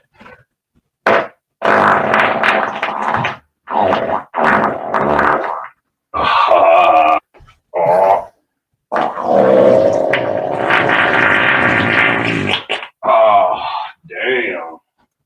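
Played-back recordings of farting sounds, a series of loud, drawn-out blasts in separate bursts of varying length, several groaning and buzzing, with short silent gaps between them.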